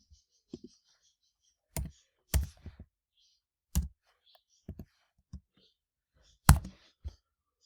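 Sparse computer key and mouse clicks come in small isolated clusters against near silence, close and crisp, with soft breathy voice sounds between them.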